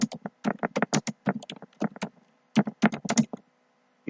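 Keys on a computer keyboard clatter in quick, uneven bursts of close, crisp taps, pausing briefly midway before a final flurry.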